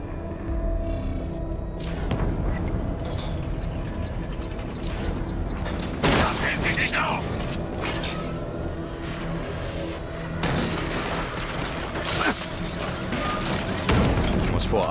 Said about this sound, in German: Die 60mm Kanone sollte sie beschädigen können, aber ein Schuss wird nicht ausreichen.